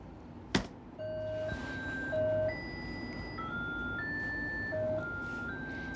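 A mono Plots voice on a modular synth plays dry with no effects, a sequence of clean sustained electronic tones stepping between pitches, fairly soft and alone after a brief click at the start.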